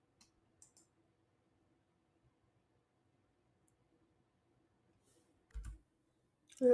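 A computer mouse gives a few soft, isolated clicks spread across near silence, with a slightly heavier click and a knock toward the end.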